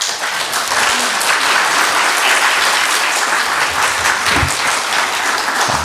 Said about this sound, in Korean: 우리 목사님 나오실 때 크게 환영 박수 해주시고